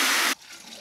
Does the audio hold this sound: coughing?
no